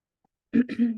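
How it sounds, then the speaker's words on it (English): A single short, throaty cough from someone getting over a cold, close to the mic, a quick two-part burst in otherwise quiet surroundings. "still coughing a little bit"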